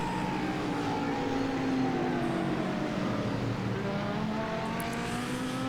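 Race car engines in the iRacing sim during an SRA Clubman GT3 Championship round at Mid-Ohio, a sustained whining drone with gear-shift pitch sweeps rising and falling, steady and loud throughout.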